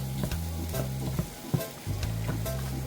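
Skirt steak and broccoli stir-fry sizzling steadily in a hot pan, with the clatter of stirring and a few sharp scrapes as the food is tossed. The sound is close and continuous, and no one speaks.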